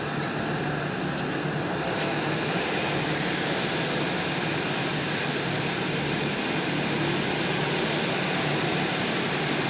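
Refrigerant recovery machine running while pulling freon from an air conditioning system, a steady, loud mechanical hum and whir with faint intermittent high ticks, continuous throughout with no talking.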